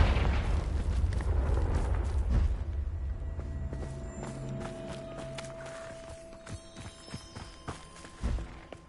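A Confringo blasting spell explosion in Hogwarts Legacy, a deep rumbling blast that fades slowly, followed by scattered thumps and footsteps in a quiet game scene.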